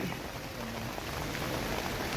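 Steady, dense rain patter with a constant hiss at an outdoor rally, moderately loud and continuous throughout, no voices standing out.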